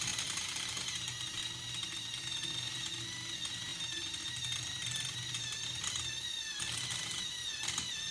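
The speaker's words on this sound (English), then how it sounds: "The gears are grinding so bad." Plastic gears grind continuously in a toy stair-climbing machine built from bricks, a steady whirring mechanical drone with harmonic whine and a few louder bursts near the end, no voices.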